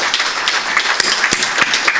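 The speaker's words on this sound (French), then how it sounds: "je vous demande d'applaudir très fortement, chaleureusement, c'est Abdelhak Azzouzi." A conference audience in Morocco applauds, a dense, steady wash of many hands clapping loudly and close throughout.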